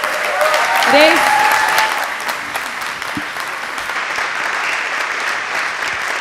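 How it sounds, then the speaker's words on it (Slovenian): A big round of applause from the audience at a student cultural evening fills the hall, loud and dense at first, then settling into a steady sustained clatter, with a brief voice near the start. "Jaz bi se pa rada zahvalila Boštjanu in lepo prosim za en velik aplavz."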